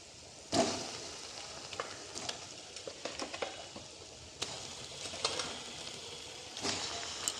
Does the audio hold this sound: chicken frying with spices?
yes